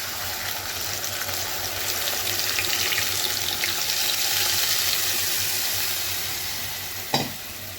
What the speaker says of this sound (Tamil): க்ரீம் சேர்த்து நல்லா மிக்ஸ் பண்ணிடலாம்